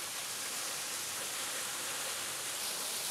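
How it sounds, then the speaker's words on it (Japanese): A mountain waterfall in the mossy Iya Valley gorge of Tokushima pours into its plunge pool, a dense, unbroken hiss and roar held at an even level throughout, with no voices. "この滝の感じも癒されるしね"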